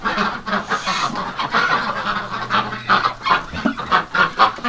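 Ducks and other farm fowl call and cluck outdoors in winter snow, a close, busy run of repeated calls with short pauses between them.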